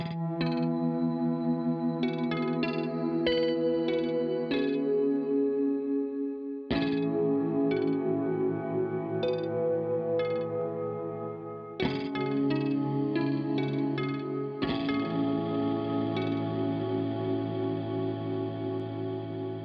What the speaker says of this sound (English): let's hear some clean sounds, because not all of shoegaze is necessarily always distorted